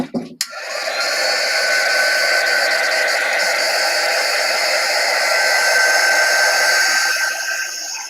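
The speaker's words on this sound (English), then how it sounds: "I'm going to go ahead and dry that a little bit." A hair dryer blows steadily on a Chalk Couture transfer during a craft workshop, a loud, even whoosh that starts abruptly and runs for most of the stretch before tapering off, with no talking over it.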